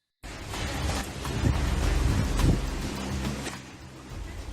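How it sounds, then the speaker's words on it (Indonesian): Strong wind with rain from tropical cyclone Seroja in Rote Ndao, East Nusa Tenggara, a loud continuous roar of gusting wind buffeting the microphone that swells and eases but never stops, with no voices. "angin kencang disertai hujan masih menerjang kawasan Kabupaten Rotendau, Nusa Tenggara Timur"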